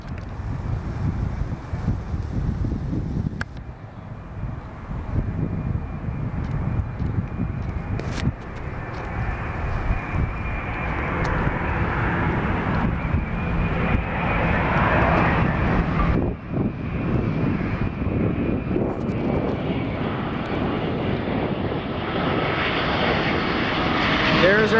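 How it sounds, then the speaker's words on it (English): Boeing 787 airliner passing at Portland airport, its jet engines giving a loud sustained roar that swells toward the end, with wind buffeting the microphone and people talking over it. "There is our Boeing 787 for aerial PA."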